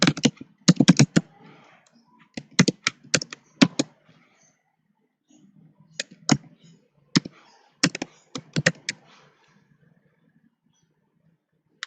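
Keys clatter on a computer keyboard as an email address is entered into project management software, coming in quick bursts of crisp taps separated by short pauses, close and clear with no talk.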